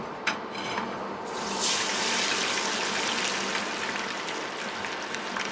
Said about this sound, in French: il faut être très délicat parce que là, ça saute parce que le poisson est rempli d'eau